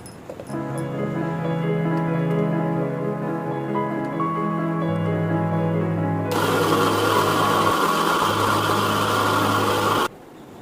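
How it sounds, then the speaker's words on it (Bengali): A kitchen mixer grinder runs with a steady motor whine while blending semolina into a finer powder, then rises into a louder, harsher grinding roar for a few seconds before it cuts off abruptly. "সুজিটাকে এবার ভালো করে আমি মিক্সিতে ব্লেন্ড করে আরও মিহি"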